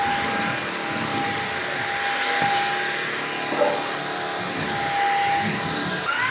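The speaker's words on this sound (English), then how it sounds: "Both of these vacuums will vacuum right underneath stuff like this." A Levoit cordless vacuum cleaner runs with a steady whirring motor hum and airy suction noise, close and continuous, pitch shifting slightly as it pushes under furniture.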